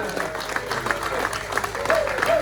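Crowd at an outdoor freedom rally outside the Russian Consulate in Sydney, applauding with scattered cheers; steady clapping mixed with voices throughout, fairly loud and close.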